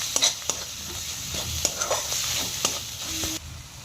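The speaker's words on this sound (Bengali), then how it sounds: "ভালো করে মশলাটা আমি কষিয়ে নেব।" Spice masala with Kashmiri chilli powder fries in a pan for a Bengali rui fish kalia, crackling steadily while a spoon scrapes and stirs with several distinct clinks, close and fairly loud with no talking.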